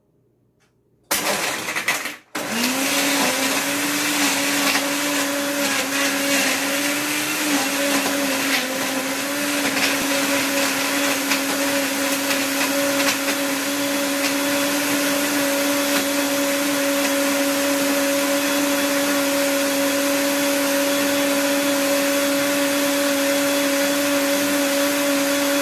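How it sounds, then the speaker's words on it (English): A blender whirs loud and steady, crushing ice cubes with mango slices and water for a smoothie, starting after a brief click and holding a continuous motor drone for over twenty seconds with no talk. "Now we blend."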